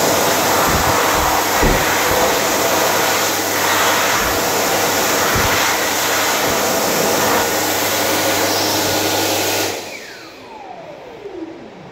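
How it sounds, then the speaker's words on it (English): A powerful Dyson Airblade V hand dryer roars loudly and steadily for about ten seconds, then cuts off and winds down with a falling whine. "dryer in the form of a Dyson Airblade V"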